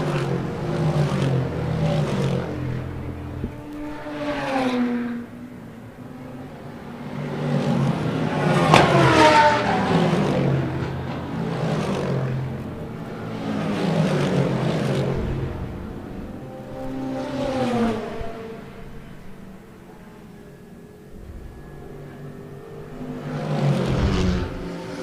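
Race cars at Killarney Raceway during an endurance race sweep past one after another, engines rising and falling in repeated near pass-bys with revving and gear changes, loud and without talk.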